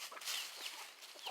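Backyard chickens cluck softly while scratching pine needles and leaf litter downhill, short clucks scattered across the moment at close range with rustling underneath.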